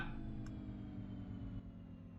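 Damaged front-mounted car engine in BeamNG.drive after a crash, winding down and dying out: a steady low rumble with layered harmonics holds throughout, fading slightly near the end, with a faint brief tick early on.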